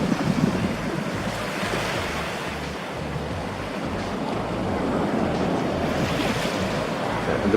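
Ocean waves roll against the break walls of a lagoon at the Grand Bahia Principe Akumal resort in Mexico, a continuous loud wash of surf mixed with gusting wind buffeting the microphone.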